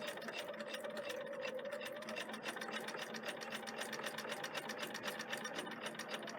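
A sewing machine stitches an S-shaped line in fabric, running at a steady rapid clatter as the cloth is turned around a corner, close and continuous with no talking.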